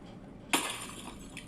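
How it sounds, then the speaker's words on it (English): Glass shatters in one sudden sharp crash that bursts loudly, then trails into scattered tinkling fragments settling for about a second, with no talking. "the sudden sound of glass shattering into a million pieces"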